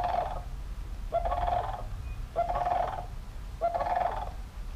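Sandhill crane calling, played back through a Google Home smart speaker: four rolling, trumpeting bursts at a steady pace, moderately loud over a low room rumble.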